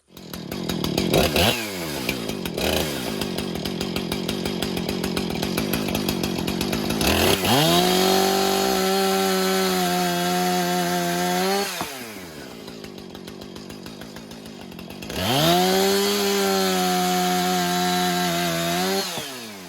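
A Husqvarna 455 Rancher chainsaw revs and bogs as it cuts through 4x4 lumber, the engine pitch dropping under load in long sustained passes with brief idling gaps between cuts.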